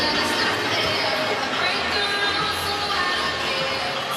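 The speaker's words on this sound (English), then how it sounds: "Crowd settling back in from the concourses. Getting back into their seats." A playoff basketball arena crowd settles back into its seats between quarters, a steady, moderately loud hubbub of many distant voices murmuring and chattering without any single voice standing out.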